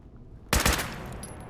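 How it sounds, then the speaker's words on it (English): A single loud, close gunshot in the video game Fallout bursts out of near silence, then a short ringing decay. "I did not mean to shoot."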